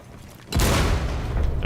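A frag grenade detonates in a video game, a sudden loud boom that cuts in after a quiet moment and leaves a rumbling, crackling tail.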